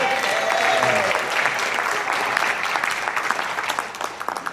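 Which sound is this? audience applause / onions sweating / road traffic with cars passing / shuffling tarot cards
audience applause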